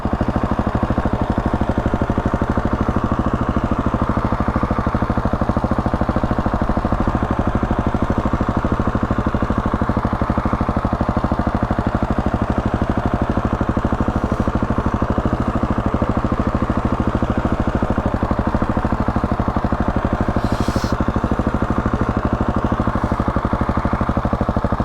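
Motorcycle engine held on steady revs while the bike leans through a tight circle, a loud continuous close-up drone with a constant pulsing note throughout, no voices.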